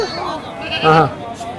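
A single goat gives a short, wavering bleat close by at a goat market in Gudur, set against a busy murmur of background activity.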